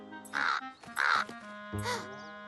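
Cartoon crow cawing in three harsh, loud calls with short gaps between them, heard close within an animated outdoor scene.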